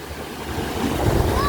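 Sea waves wash onto a beach in a steady broadband rush, with low rumbling surf building slightly toward the end and some wind buffeting the microphone.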